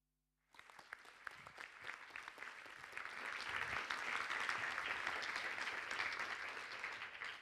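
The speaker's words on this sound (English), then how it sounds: "This applause is all yours." Audience applause after a talk on equal care and equal pay, starting suddenly from silence and swelling into steady, dense clapping that holds to the end.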